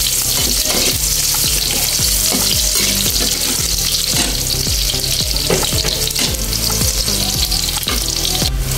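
Loud, steady sizzle of garlic sautéing in a hot frying pan for a Filipino adobong kangkong dish, with repeated rhythmic scraping strokes of a utensil stirring throughout.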